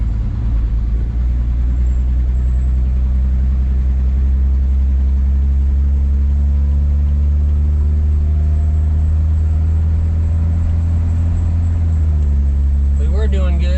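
A rescued 1977 Chevy Nova's engine running, a steady loud low rumble that holds throughout, with a slight shift in tone near the end.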